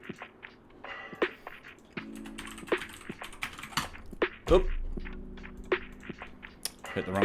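Rapid, irregular clicking of a computer keyboard during a web development coding session, keys struck up close in short bursts and single taps, with a voice briefly present.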